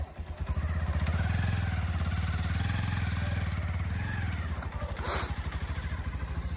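A motorcycle that has just been started, idling with a loud, steady, close putter and pulsing engine beat that eases slightly near the end, with a short hiss or scrape and some talk in the background.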